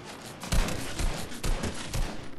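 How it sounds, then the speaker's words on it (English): Video-game gunfire aimed at the player, with a fast run of loud gunshot bursts in irregular clusters, close and sharp, with no talking over it. "Is someone shooting at me? Yeah, someone is."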